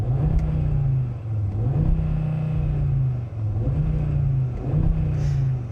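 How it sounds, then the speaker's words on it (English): Turbocharged five-cylinder engine of a 2025 Audi RS3 revving with the active exhaust baffles open, a loud, close, throaty drone rising and falling in repeated rev swells that bounce off a low rev limiter. "if you push this new checkered flag button here, that automatically opens up the baffles, it brings the revs up"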